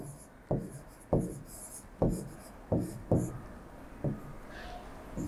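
Pen or marker strokes on a board or screen during a lesson: six or seven short scratchy strokes land at uneven intervals, each fading quickly, faint and close against a quiet room.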